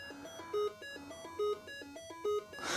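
Simple electronic beeps from Jet Set Willy on a Dragon 32 home computer play in a repeating melodic pattern, steady and fairly quiet.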